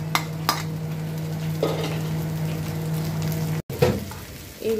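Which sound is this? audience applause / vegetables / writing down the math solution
vegetables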